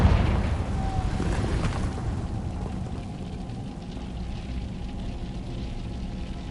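A Confringo explosive curse from Hogwarts Legacy bursts in a loud blast at the start, then fades into a long rumbling, crackling decay that stays steady to the end.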